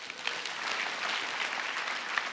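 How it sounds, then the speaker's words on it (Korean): Steady applause from a church congregation, dense and fairly close, sustained evenly for a couple of seconds without talk. "이분들에게 박수 한번."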